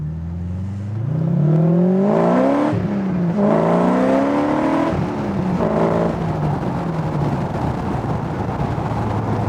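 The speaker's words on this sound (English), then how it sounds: "from the tone of the engine you can definitely tell that the idle is much, much happier now" A Westfield Seight sports car's 3.9 litre V8 engine idles steadily and loud, its low rumble rising into a couple of brief blips before settling back to a smooth, even idle.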